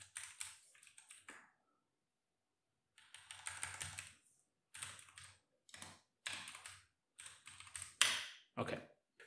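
Rapid bursts of clicking keystrokes on a computer keyboard come close and clear, broken by short pauses between runs of typing.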